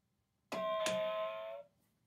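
A doorbell button sounds a two-tone ding-dong chime, a bright strike followed quickly by a second, ringing out clearly for about a second before fading, with quiet background otherwise.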